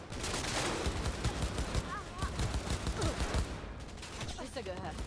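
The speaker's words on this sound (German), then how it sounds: "Schüsse gehört." Gunfire in the video game Cyberpunk 2077, rapid bursts of shots and sharp cracks running throughout, with a few whistling tones and game voices mixed in beneath the shooting.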